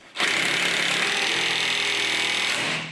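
A power tool whirs steadily at close range, likely an impact wrench driving the large drive shaft nut on an £850 hatchback being built into a race car; one sustained loud burst of about three seconds, with no voices.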